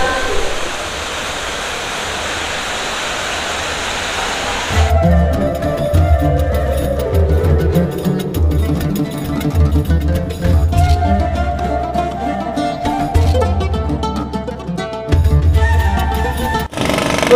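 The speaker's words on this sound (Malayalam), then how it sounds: "വെള്ളത്തിൻ്റെയൊക്കെ സൗണ്ടൊക്കെ നോക്കി നിങ്ങൾ." Running water near the Mina fish market in Abu Dhabi makes a steady broadband rush. It grows louder and more churning partway through and stays continuous.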